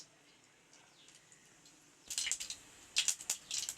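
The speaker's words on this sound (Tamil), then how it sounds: "கடுகு நல்லா பொரிஞ்சிடுச்சு." Half a spoon of mustard seeds spluttering in a spoon of hot oil for a chickpea sundal: a quiet start, then sharp, irregular crackling pops that grow busier toward the end.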